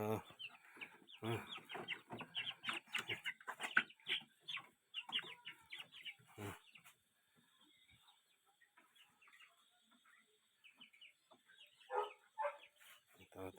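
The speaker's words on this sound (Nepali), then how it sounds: "अहिले चाहिँ फिलहाल चाहिँ मैले यहाँ कुखुरा पालेको छु" Chickens cluck and squawk nearby in short bursts, mixed with a person talking over them at first, then quieter scattered clucks.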